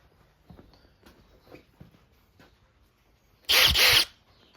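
A power drill whirs loudly in a short half-second burst near the end, drilling a hole in an engine mount, after scattered quiet knocks and handling noises.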